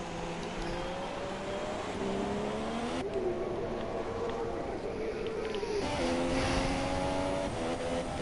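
Race car engine droning steadily in F1 2017 at Abu Dhabi, a continuous high-revving whine with gear-shift pitch steps, fairly loud and close throughout as the car crosses the finish line.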